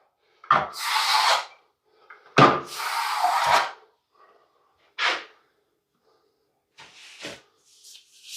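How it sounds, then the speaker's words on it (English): A sponge rubs dried Toupret joint filler smooth along edges, giving several separate bursts of rough scrubbing, two long close strokes followed by shorter, fainter rubs, with no talking. "by using that sponge now, we know we've got these edges really, really fine."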